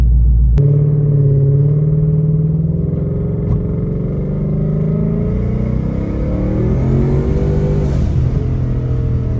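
A Ford Mustang's engine rumbles steadily while driving on cold tires, a loud, continuous low drone with a rising, revving swell toward the end and no talking.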